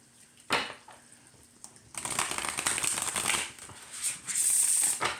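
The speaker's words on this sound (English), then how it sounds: "you could split the deck in half and shuffle it that way" Oracle cards from an Aether Creatures deck are shuffled by hand after the deck is split in half, a fast dense riffle of papery flicks that starts after a brief quiet lead-in and runs close and steady to the end.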